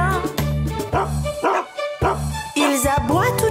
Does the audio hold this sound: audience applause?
no